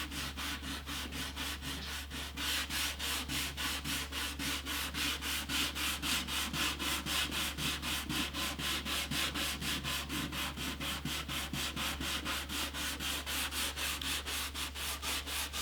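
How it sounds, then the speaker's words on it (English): Rapid, rhythmic rubbing of 800-grit wet sandpaper back and forth over a French polish finish on an antique parlour guitar, steady and even for the whole stretch, over a constant low hum. "Especially when you're sanding something that will come off in layers, like a finish."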